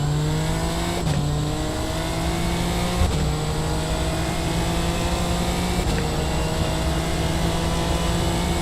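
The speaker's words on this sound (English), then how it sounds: "That turbo is absolutely gorgeous." Race car turbo engine on track during SFL testing in Montreal, a steady loud engine drone with rising pitch runs throughout, broken by a few sharp gear-shift dips.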